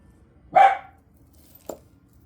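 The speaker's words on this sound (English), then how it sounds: "Sorry for the barking," A single loud dog bark rings out, followed about a second later by a shorter, fainter sharp sound, over a quiet background.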